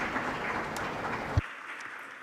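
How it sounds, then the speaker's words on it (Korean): At a climate change conference session, an audience gives applause as a dense, steady wash of clapping that cuts off abruptly, leaving a quiet room. "큰 박수 부탁드립니다"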